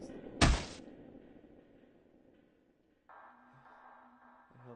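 A body slams against a door in a visual novel game: one sharp, loud impact followed by a fading reverberant hum, then a low tonal drone that starts a few seconds later.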